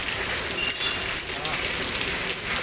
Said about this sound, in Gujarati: અહીંયા પણ વરસાદ